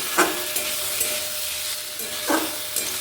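Chicken fries in hot oil in a pan, giving a steady, loud, close sizzle with a couple of brief scraping stirs rising above the hiss.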